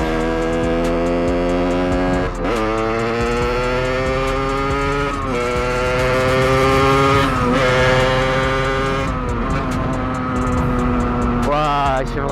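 A 50cc supermoto motorcycle with the rock wool removed from its exhaust revs loud and close, its raspy two-stroke note rising and falling through several throttle swells over a steady drone.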